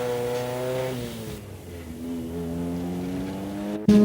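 A race car at the 1989 Willhire 25 Hour endurance race speeds past, its engine a strong droning whine that shifts pitch as it accelerates and passes, heard alone and fairly loud, ending with a sudden thump.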